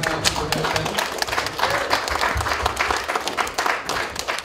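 Wedding guests applauding the bridesmaids at a reception, a dense round of clapping from a roomful of people with some voices talking underneath.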